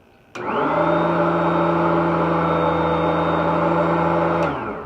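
A Soniclean Galaxy vacuum cleaner switches on abruptly and runs at a steady, loud whine with a droning hum, then cuts off at the end.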